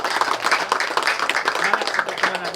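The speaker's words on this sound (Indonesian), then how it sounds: "Tepuk tangan untuk Mas Didi." A crowd claps steadily for Mas Didi, a boy who has memorized the Quran, at a gathering sharing happiness with orphans; dense, even applause runs throughout, with a faint voice briefly heard underneath.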